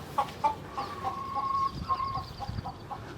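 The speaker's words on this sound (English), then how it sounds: "we got these Buff Orpingtons, the beige ones, and the black Australorps" Buff Orpington and black Australorp hens cluck in short repeated bursts close by, with a steady higher chirping bird behind them in an outdoor garden setting.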